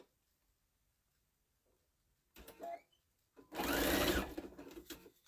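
A sewing machine stitches a heart-shaped hot pad at a stitch length of 3. A short burst of whirring comes first, then a longer, louder run of rapid mechanical stitching, close up, with no talking.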